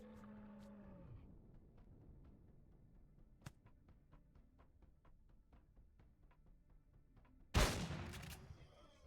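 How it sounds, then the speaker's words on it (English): A single loud shotgun blast from Empyrion Reforged Eden cuts in late, with a lingering rumbling tail, after quieter ambient ticks and a sharp crack; a low cattle-like drone sounds at the start. "we got a guy shooting at me with a shotgun"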